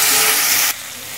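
Fish heads sizzle loudly in hot oil in a pan, fried for moong dal; a steady broadband hiss that drops abruptly to a softer simmer partway through.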